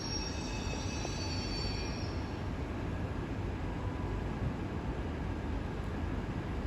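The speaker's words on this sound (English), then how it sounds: "As a Circle Line service to Hammersmith arrives in beside me." A London Underground Circle Line train bound for Hammersmith pulling into a station alongside, a steady rumble of wheels on rails with a high squeal fading early on, moderately close and continuous.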